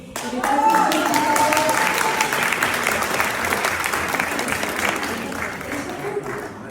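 Sustained audience applause fills a ceremony hall marking the 50th anniversary of ANEFE at the French Senate, steady and dense throughout with a few louder claps rising above it, with voices mixed in.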